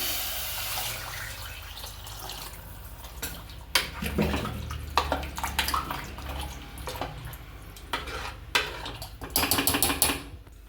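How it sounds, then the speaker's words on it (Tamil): Water is poured into a pot of chenna (chickpea) gravy during home cooking, heard as a string of splashing, sloshing bursts that swell and fade in uneven clusters, fairly close, with no talking. "இப்போ தண்ணி ஊற்றிக்கலாம்."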